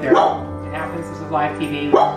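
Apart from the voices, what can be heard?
dogs barking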